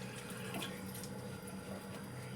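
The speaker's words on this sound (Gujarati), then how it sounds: "તો સૌપ્રથમ આપણે પહેલાં એક કેરી લઈશું અને કેરીને આપણે ધોઈ લઈશું." Tap water runs steadily over a mango being rinsed under a faucet before peeling for a sweet-sour mango drink, a soft continuous splash with no voices.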